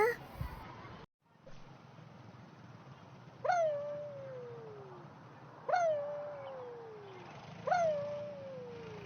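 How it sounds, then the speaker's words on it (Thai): Three rising and then slowly falling whimpering cries from a puppy in the Avatar World video game, spaced a couple of seconds apart and clear over a quiet background. "ฉันได้ยินเสียงเหมือนลูกหมาร้องเลย"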